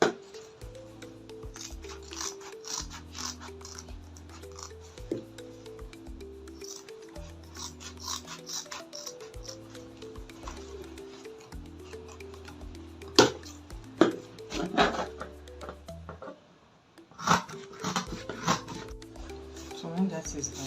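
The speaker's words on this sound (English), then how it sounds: "I'm going to cut these 4 edges off." Scissors cut through the edges of Ankara fabric for a tote bag, repeated crisp snips spread across the clip, close and fairly quiet, with a low musical backing underneath.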